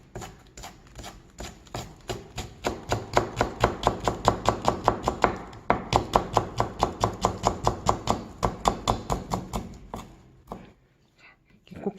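Knife finely slicing green onion into thin strips on a cutting board, a fast, steady run of close, sharp chopping taps that gradually slows before a short pause and a few final cuts.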